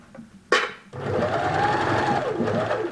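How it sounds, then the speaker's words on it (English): A sewing machine stitches scrubs trousers fabric, starting after a sharp click with a loud, steady close-up whir that runs continuously, its pitch rising and dipping slightly as the seam goes around a bend. "Now I am sewing sideways, okay."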